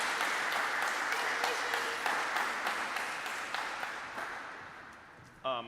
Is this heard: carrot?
no